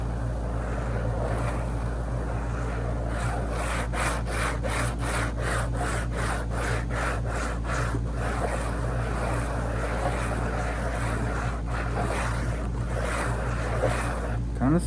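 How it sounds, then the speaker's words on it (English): A plastic scalp massager scratches across cardboard in close, rhythmic strokes, an even dry rasping that repeats like sawing over a steady low hum throughout. "I wonder what would happen if I took this scalp massager to the cardboard"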